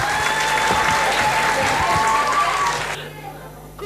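An audience at a school singing contest in Yaoundé claps steadily in a dense wash of applause, with voices mixed in, before it cuts off abruptly near the end.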